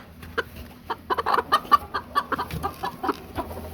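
Silkie hens on a farm cluck close by in a quick, uneven run of short clucks and murmurs, a few louder calls standing out against a quiet background.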